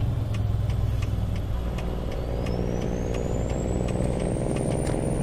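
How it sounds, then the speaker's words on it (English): Cars and trucks drive by in the American Truck Simulator video game, a steady engine and road rumble running throughout, with a brief air-brake hiss and a rising whine partway through. "So you can hear the cars a lot more."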